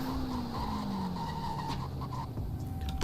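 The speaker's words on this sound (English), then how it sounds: "Let's do a quick brake test." A car in Roblox Greenville brakes hard during a brake test, its tires letting out a long, falling skid squeal over steady engine and road noise.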